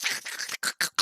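A person's voice imitates a scorpion with harsh hissing, rasping bursts, one longer hiss followed by three short sharp ones, close and fairly quiet.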